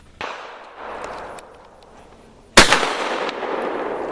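A shotgun firing slugs at an outdoor shooting range in Elk Neck State Forest: one sharp, loud blast partway through with a short echoing tail, preceded by quieter handling rustle.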